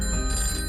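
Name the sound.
telephone ringing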